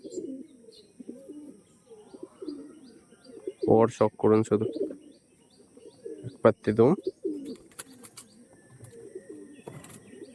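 Andhra pigeons coo in low, rolling phrases throughout while someone speaks Bengali over them in short bursts.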